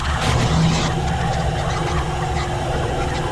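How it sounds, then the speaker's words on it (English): A big MDOT road truck, being fitted with a salt spreader, passes nearby with a loud, steady low engine rumble and broadband road noise that holds at the same level throughout. "What you're hearing is a big MDOT truck."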